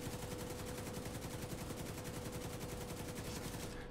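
Rapid, even automatic gunfire from the Reliable gun at a range in The Division 2, a loud continuous rattle of shots that stops abruptly at the end.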